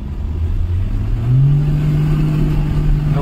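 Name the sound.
car engine revving to high RPM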